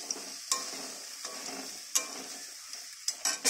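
Spice masala fries in a pan while a spoon scrapes and stirs it, giving a soft sizzle broken by several sharp metallic scraping strokes at irregular intervals, close up with no voices.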